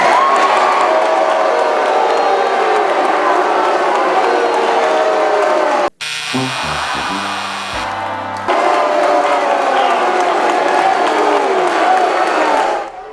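A loud Tucson town hall crowd reacts to a congresswoman's answer on the public option with sustained shouting, cheering and applause, broken briefly by a short, different-sounding interruption before the crowd noise resumes.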